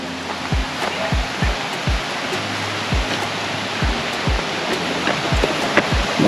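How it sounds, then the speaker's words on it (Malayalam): Steady rushing roar of a waterfall in a stream area near a small bridge and bathing spots, close and constant, with intermittent low thumps, likely wind or handling bumps. "അവിടെ വെള്ളച്ചാട്ടം"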